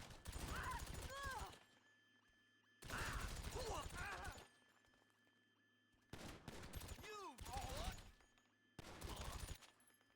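Gunfire from shooting enemies in GTA Online, coming in four separate bursts of rapid shots with quiet gaps between them, each burst loud and close.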